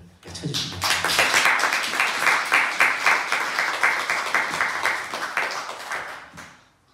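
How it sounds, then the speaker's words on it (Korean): A church congregation at a Sunday service applauds in a loud, dense burst of clapping that lasts several seconds, then thins out and fades away at the end. "모든 분들을 위해서 큰 박수를 쳐주시기 바랍니다"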